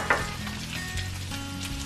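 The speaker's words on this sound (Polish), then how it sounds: "Kopsiki dalej się smażą" Meatballs frying in a pan for an Indian tikka masala dish, with a steady close sizzle and light crackle that runs continuously, plus a brief scrape of a utensil near the start; no talking.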